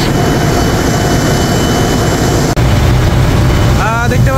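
Engine of the large river launch Sundarban 16 running on the Dhaka–Barishal route, a loud steady low roar filling the whole stretch, with a brief dip midway and a faint whistle-like tone near the end.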